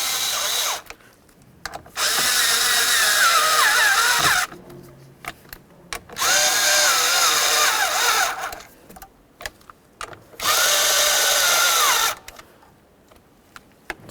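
A power driver tightens the mounting screws on a 2007-2012 Dodge Caliber cruise control switch. It whirs in three bursts of a few seconds each, with quiet gaps and small handling clicks between them.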